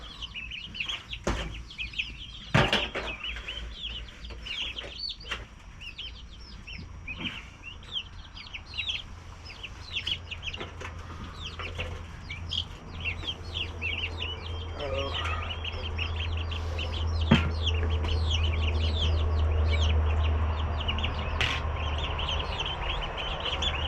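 Chickens, turkeys, ducks and geese cluck and chatter nearby in a busy flock, with scattered knocks and a low rumbling hum building later.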